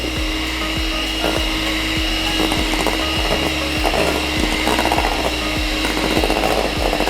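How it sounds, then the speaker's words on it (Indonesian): An electric hand mixer runs at low speed through chocolate cake batter with a continuous motor hum. Its beaters clatter rhythmically against the bowl, close and steady throughout. "Ini diaduk, speed rendah aja sampai dia tercampur rata"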